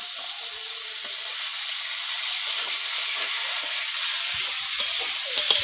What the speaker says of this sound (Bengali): আমি কড়াইতে এবার সবজিটা দিয়ে দিচ্ছি